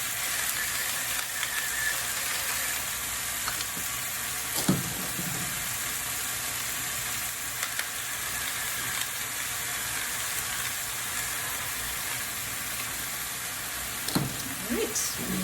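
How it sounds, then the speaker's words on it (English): Pork browning in a pan, a constant dense sizzle and crackle of frying meat with occasional knocks and scrapes of stirring, steady and close throughout. "we are going to stir occasionally until browned and pork reaches a minimum internal temperature of 145 degrees"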